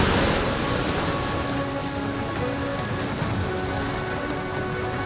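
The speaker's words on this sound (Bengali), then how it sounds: "এখনো পর্যন্ত বৃষ্টি হচ্ছে, সেটা দেখেই বোঝা যাচ্ছে" Steady rain falling outdoors during a spell of scattered showers, a dense, even hiss of drops striking surfaces that holds constant throughout, loud and close with no voices.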